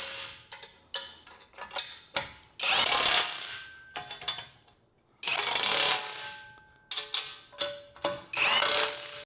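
A ratchet wrench tightens bolts on a truck tire carrier mount, with quick close clicking strokes in short bursts alternating with longer stretches of continuous ratcheting.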